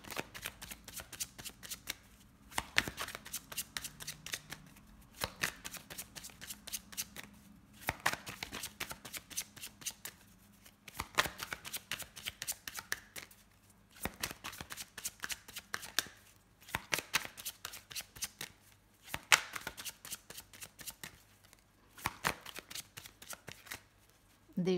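Tarot cards shuffled by hand in repeated bursts, a riffling flutter each lasting a couple of seconds, separated by brief pauses, close and fairly loud with no talking.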